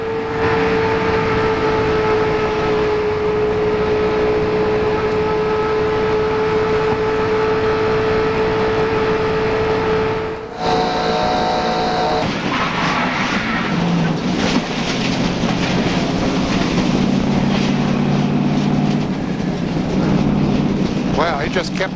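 In-car sound from a 1997 NASCAR Winston Cup stock car at Talladega during a multi-car crash: a loud steady engine drone and wind roar, then an abrupt break and harsher rattling, scraping noise, with radio chatter over it.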